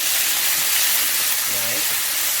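Tomatoes go into a pan already sizzling with golden onion and green beans for a dried shrimp masala, giving a steady loud hiss with a brief murmured voice underneath.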